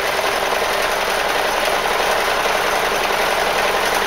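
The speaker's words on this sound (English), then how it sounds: "watching somebody put something through a sewing machine is quite boring" A sewing machine stitches a fabric trouser belt, giving a loud, steady mechanical whirr that runs unbroken from start to finish with no voices.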